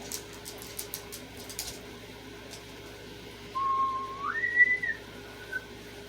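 A person whistles a short, slightly faltering tune that rises and then tapers off, fairly close and alone, after a few light taps and clicks at the start.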